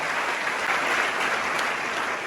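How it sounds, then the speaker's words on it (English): An audience at a career event applauds, producing dense, steady clapping that continues evenly throughout. "Shall we welcome them with a round of applause?"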